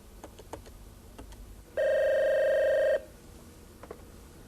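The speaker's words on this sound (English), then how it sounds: "I'm going to make a call to Robert." A telephone call being placed: one steady electronic ring tone sounds for just over a second, close and clear, between faint clicks and quiet background noise, with no voices.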